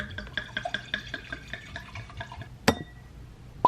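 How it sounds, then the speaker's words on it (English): Sauvignon Blanc pours into a glass in a series of quick, close gurgling splashes, followed by a sharp clink of glass and a light tap. "I'm about to pour myself a glass of wine"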